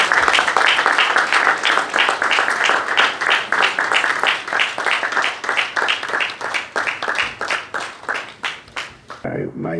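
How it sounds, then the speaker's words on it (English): Loud, rhythmic clapping from a crowd receiving President Yoweri Museveni, the claps falling in an even, steady beat for nearly ten seconds before breaking off abruptly at the end. "Round of applause, ladies and gentlemen."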